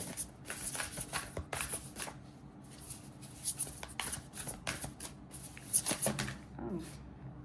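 Tarot cards being shuffled at close range, a steady papery riffling and flicking that runs through the whole stretch with small bursts and taps, fairly quiet, with no talk over it.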